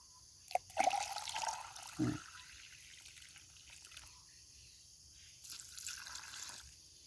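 Water trickles and splashes onto the soil around a durian tree in short pours, fairly quiet, with drips and a soft gurgle between.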